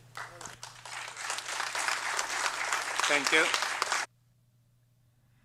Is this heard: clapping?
yes